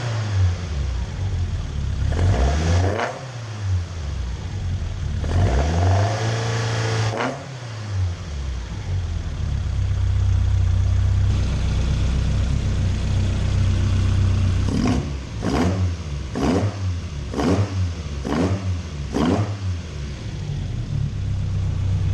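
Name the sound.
Toyota AE86 4AG engine revving with new RSR extractor exhaust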